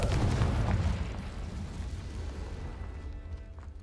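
A Confringo blasting curse detonates in Hogwarts Legacy, a loud booming blast with a rumbling low roar that slowly fades over a few seconds, with no voices.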